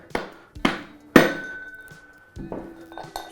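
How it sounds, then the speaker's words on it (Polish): Five sharp knocks of a rubber mallet on a metal axle of an e-scooter wheel (Frugal Storm/Dynamic), three in quick succession then a pause and two more, each ringing briefly. "używając gumowego młotka drugiej strony uderzamy w ośkę tak, aby dekiel odskoczył"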